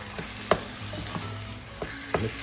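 Ground meat frying in a pan, seasoned with fish sauce, while being stirred and mixed for a Filipino ground meat omelet; a steady close sizzle with several soft scraping clicks of the utensil, no talking.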